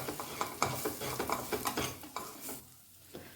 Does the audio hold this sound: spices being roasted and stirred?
yes